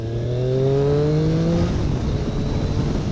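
A Triumph Street Triple RS motorcycle engine rises steeply in pitch under throttle for about a second and a half, then drops into a loud, rough, rumbling roar mixed with wind noise, close and continuous with no talking.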